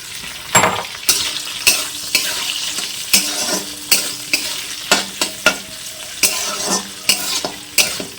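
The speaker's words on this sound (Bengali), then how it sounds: "এটাকে হালকা করে ভেজে নেব।" Beans, capsicum and carrots fry for fried rice in a pan. A spatula scrapes and stirs in a steady, close rhythm over continuous sizzling oil.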